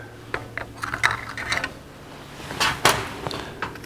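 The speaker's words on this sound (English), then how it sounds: "We'll remove the choke." Small metallic clicks and scrapes as the choke is taken off a Rochester 4 Jet carburetor during disassembly, scattered light taps with a sharper clatter near the end, close and quiet.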